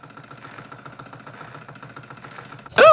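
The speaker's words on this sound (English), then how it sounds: "Oh, Henry, isn't it lovely to sit here and listen to this beautiful engine taking over?" A Wilesco Showman model steam engine runs with a steady, fast mechanical chuffing and clatter, moderately loud and close, before a sudden louder burst near the end.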